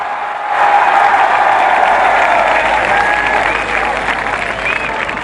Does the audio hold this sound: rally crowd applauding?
yes